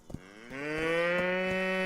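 A long, rising cow moo from the video game Rising World rings out clearly and steadily, with a few soft knocking sounds in the background.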